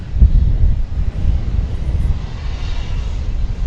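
A departing airliner at DFW Airport bound for Cancun gives a steady, broad jet roar with heavy low rumble, fairly loud and sustained, with some wind noise and no talk.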